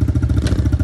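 A pit bike motorcycle engine buzzes loudly and close in a fast, pulsing rhythm out in the hills, with clattering thumps from the bike during a wheelie.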